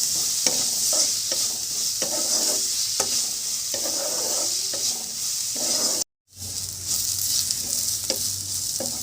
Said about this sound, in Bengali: এটাকে আমি একটু লাল লাল করে ভেজে নেব